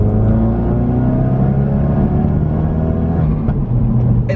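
Ford Focus RS with Powerflex engine and transmission mounts, heard from inside as a loud, steady engine drone that rises gradually in pitch under acceleration, with no talk.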